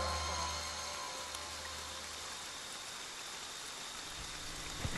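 Steady rain pours in Friday the 13th: The Game, a continuous even hiss with a faint low hum underneath and a small bump near the end.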